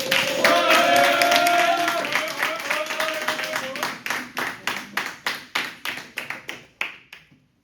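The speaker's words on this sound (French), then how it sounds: "je veux un tonnerre d'applaudissements" An audience at a speaking contest claps for a contestant, a dense burst of applause under a brief voice that thins into scattered, fading individual claps before stopping.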